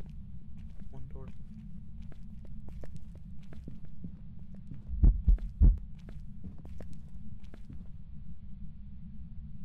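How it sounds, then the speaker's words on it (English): In the horror game Phasmophobia, a heartbeat thumps low and heavy, rising to two loud, close beats midway over a constant low rumble and scattered clicks and footsteps. "I heard the heartbeat."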